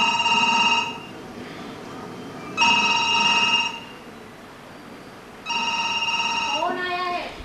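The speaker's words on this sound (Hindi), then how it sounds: "घंटी सुनाई पड़ रही है।" Old-style telephone bell ringing at close range in three loud, evenly spaced bursts on a theatre stage during a Hindi play, with a brief voice at the end.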